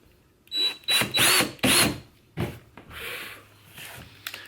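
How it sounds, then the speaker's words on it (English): Power drill boring a hole through the landing gear area of a Radar 115 model aircraft, several loud bursts of whirring at close range with short pauses between, then a quieter low hum. "I know where I'm going to drill with the drill"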